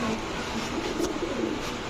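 An army pigeon, a deep blue-eyed female among several pairs, gives a low soft coo over steady background noise, brief and moderately close.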